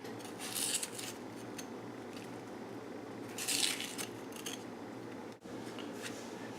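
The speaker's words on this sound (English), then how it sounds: "So I'm just going to keep chipping away at the center" Knife tip chipping at the hollowed centre of a raw onion, two short crisp crunching scrapes a few seconds apart, quiet and close with no talk.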